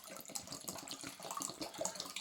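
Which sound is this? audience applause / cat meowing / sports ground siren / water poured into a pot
water poured into a pot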